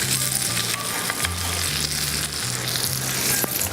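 Steak frying in butter in a pan, a loud close sizzle and crackle with some stirring noises, no talking, under a low background hum.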